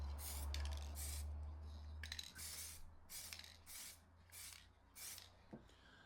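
Repeated short hissing bursts of an aerosol spray, about six in a row with brief pauses, over a low steady hum.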